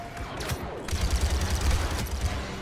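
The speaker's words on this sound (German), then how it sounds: "Von wo schießen die jetzt gerade?" Blaster fire in Star Wars Battlefront 2 multiplayer on Kashyyyk, rapid shots crackling over a low rumbling battle bed, a few sharper reports near the start.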